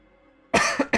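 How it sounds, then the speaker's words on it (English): A person coughs after a near-silent pause: one harsh burst followed by two shorter coughs, close and loud. "Don't know why I have a cough all of a sudden."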